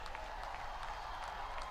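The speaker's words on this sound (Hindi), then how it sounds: "सिमरनजीत सिंह, जोरदार तालियां।" Steady audience applause from a crowd at an event honouring Olympic hockey players, a continuous wash of clapping heard from a distance at low volume.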